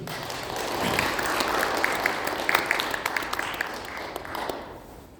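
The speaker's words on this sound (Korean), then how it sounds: "박미자 선생님 큰 박수로 맞이해 주시죠." An audience at a public debate forum welcomes a guest speaker with hearty applause, a full, dense clatter of many hands that swells, peaks in the middle and then tapers off toward the end.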